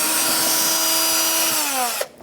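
A power drill with a Phillips bit whirs at high speed for about two seconds, removing grommets from a Kia Soul, its pitch sagging slightly under load before it cuts off abruptly.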